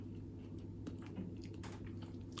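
Close, quiet chewing of vegan red pepper and spinach bites, soft moist squishing bites with faint crunches, no talking.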